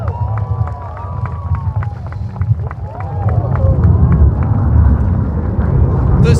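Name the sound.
crowd cheering at Red Arrows airshow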